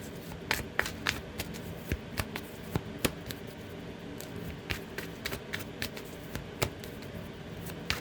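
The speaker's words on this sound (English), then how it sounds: "Get a good shuffle here." Tarot cards are shuffled close by, with crisp snapping riffles and soft slides repeating at an uneven pace.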